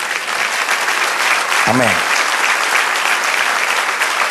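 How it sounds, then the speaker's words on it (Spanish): Steady, loud applause for the Lord fills a church as the congregation claps continuously, with a brief spoken word rising over the clapping. "Denle un aplauso al Señor."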